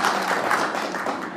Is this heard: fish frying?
no